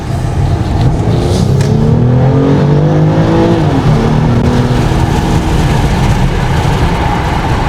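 A BMW 750e hybrid sedan drives fast with the air conditioning running, its engine and road noise a loud, steady roar throughout, with a brief rising engine tone partway through.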